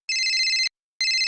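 A telephone rings with a bright electronic double-tone trill, one long burst, a short pause, then a second burst starting; close and loud, with no talking over it.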